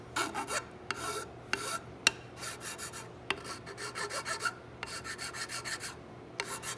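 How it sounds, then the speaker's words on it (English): A metal file rasps back and forth over a rifle butt plate on a colonial kit stock, giving rhythmic scraping strokes punctuated by small clicks, close and fairly quiet. "If any of the butt plate sticks up, which it may a little bit, it's good to file that down."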